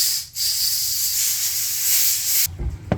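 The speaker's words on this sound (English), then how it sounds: "I'm going to go get some air in a compressed state and finish the job" Compressed air blasts onto a Cub Cadet CC 550 walk-behind mower that sat unused for eight years, as a loud, close, steady hiss that stops abruptly, followed by a few clunks and handling noises.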